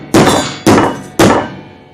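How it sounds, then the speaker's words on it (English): A small sledgehammer pounding a copper piece flat while making a welding spoon: three loud, close metallic clanging blows at an even pace, each ringing and fading before the next. "what we're going to do is we're going to pound this flat and then put a little bit of a bend into it"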